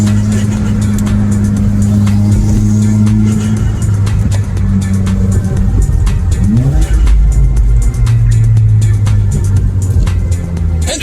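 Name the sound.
turbo noise on let-off from tuned 2017 Subaru WRX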